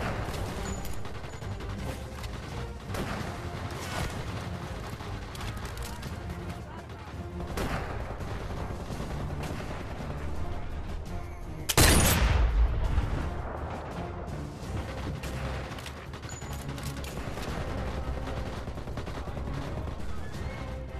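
Sniper rifle fire from the VR shooter Sniper Elite VR: one loud broadband shot bursts out midway over a dense bed of game music and ambience, with quieter gunfire-like pops scattered around it.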